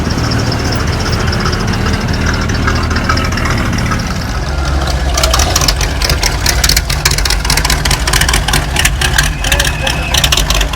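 A Chevrolet Camaro Z28 idles at a car show, its engine giving a loud, steady low rumble that turns rougher and more pulsing midway through, with people talking nearby.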